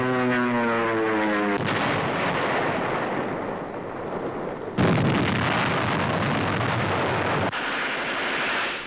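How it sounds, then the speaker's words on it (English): Dive bomber aircraft roar overhead in wartime Burma, a sustained propeller drone swelling with heavy blasts and bomb bursts cutting in, thick and continuous at close range. "Dive bombers pave the way, only a few hundred yards ahead of advancing infantry."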